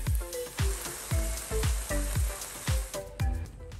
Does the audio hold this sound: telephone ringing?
no